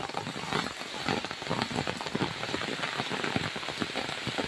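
Heavy rain pours steadily onto a surface at a botanical garden in Singapore, a dense, continuous hiss of drops drumming close by with no talking.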